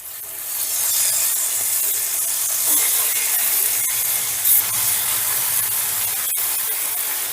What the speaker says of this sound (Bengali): বাটারটা বেশ ভালো মতো গলে গেলেই আমি টমেটোগুলোকে এখানে সাজিয়ে দিচ্ছি।